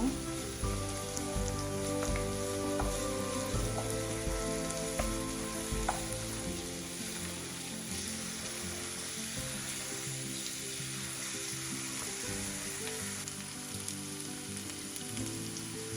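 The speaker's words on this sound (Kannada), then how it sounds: "ಇಲ್ಲಿ ನಾನು 1 ಸ್ಪೂನ್ ಆಗೋಷ್ಟು ಬೆಳ್ಳುಳ್ಳಿ ಶುಂಠಿ ಪೇಸ್ಟ್ ಕೂಡ ಹಾಕ್ಕೊಳ್ತೀನಿ. ಇದನ್ನು ಕೂಡ ಹಾಗೆ ಫ್ರೈ ಮಾಡ್ಕೊಂಡ್ಬಿಡ್ತೀನಿ ಒಂದು 2 ನಿಮಿಷ" Ginger garlic paste fries in oil in a pan for a mushroom masala gravy, giving a steady, soft sizzle with faint crackles and occasional stirring, heard alone without talk.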